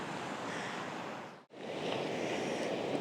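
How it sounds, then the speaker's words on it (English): Waves wash steadily onto a rocky shore at a tidal pool on a calm day of slight seas, a broad continuous surf roar that dips almost to nothing for a moment before swelling back. "So we can see the wild waves slapping in, and it's even quite calm out today."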